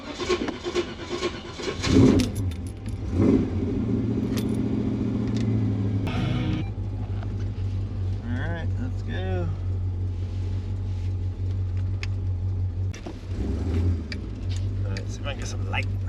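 A 1989 Jeep Grand Wagoneer's 360 V8 engine idling with a steady rumbling drone, loud and close, with occasional revs and clunks over it.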